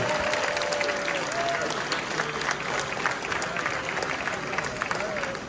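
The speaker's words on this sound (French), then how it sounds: "Beaucoup les applaudissements." Spectators applauding at the RoboCup 2023 humanoid KidSize robot soccer final, a steady, loud roar of clapping and crowd noise with a commentator talking over it.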